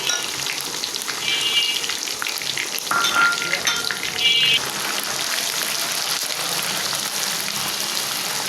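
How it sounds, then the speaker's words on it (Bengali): Ginger, garlic and mustard paste fry in hot oil, a steady close sizzle crackling throughout with occasional brighter spits and scrapes of stirring, no talk. "তেলটা গরম হয়েছে আদা আদা রসুন পাতা দিয়ে দিলাম তারপরে সরিষা বাটা দিয়ে দিলাম"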